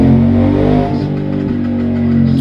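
A motorcycle engine revs steadily on a power-test dynamometer bench, a loud continuous mid-pitched drone with strong low harmonics and slight shifts in pitch, close and alone without talk.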